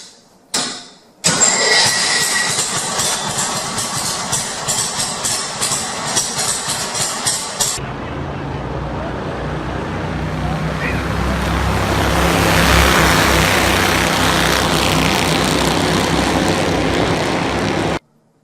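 A restrictor-plate race car engine limited to about 15 horsepower starts up, then runs steadily and loudly for several seconds, with a broad roaring drone holding throughout.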